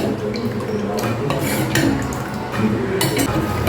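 A spoon stirs sugar into thickened milk in a metal pot for fruit custard, scraping and clinking against the sides in a busy, uneven rhythm.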